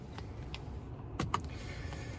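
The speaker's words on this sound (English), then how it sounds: "you can operate the column electrically by pressing this button here" Faint electric motor whir with a soft click from the power steering column of a BMW 530e M Sport plug-in hybrid, adjusting inside the quiet front cabin.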